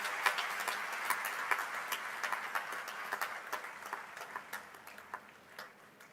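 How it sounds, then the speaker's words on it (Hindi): An outdoor audience applauds performers at a CRPF cycle rally flag-in ceremony at the Red Fort: fairly loud, scattered clapping that thins and fades toward the end, with no talk over it. "एक बार फिर तालियों की गड़गड़ाहट से इन कलाकारों की"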